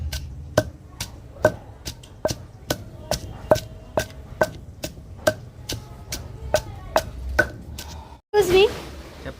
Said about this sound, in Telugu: మిక్సీ పడితే బాగోదని చెప్పేసి రోట్లోనే దంచేస్తున్నాను త్వర త్వరగా నూరేసి